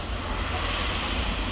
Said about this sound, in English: It's a huge engine.